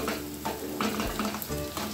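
Garlic fries in oil until brown, a loud steady sizzle with light stirring and no voices.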